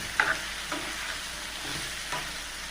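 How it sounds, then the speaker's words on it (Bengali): Red amaranth leaves stirred in a frying pan: a steady sizzle with a few scraping spoon strokes, close and moderately quiet, with no voices. "নাড়াচাড়া করে মিশিয়ে নেব।"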